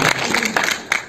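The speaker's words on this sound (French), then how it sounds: "On l'applaudit." A small group applauds indoors at a family gathering, with close, dense clapping and a few stronger claps standing out over a steady wash of hand noise.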